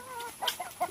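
Native hens in a backyard poultry yard, giving a few short, close clucks and soft throaty calls in quick succession.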